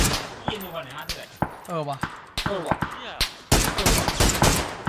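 Rapid bursts of gunfire ring out in PUBG, with several sharp shots and short volleys spread across a few seconds, while players talk excitedly over them.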